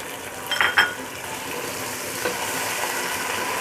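Chopped tomatoes drop into hot oil with garlic ginger paste while making chicken biryani, setting off a close, steady sizzle after a brief clatter as they land.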